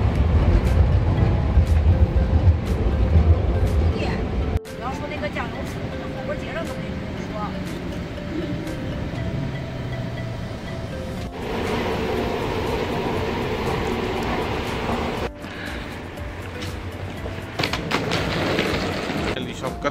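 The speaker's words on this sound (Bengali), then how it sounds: "আমার মেট্রো চলে আসছে" A Beijing metro train rumbles into the station, a loud low roar with clattering shifts and abrupt changes as cars pass, while voices chatter in the background.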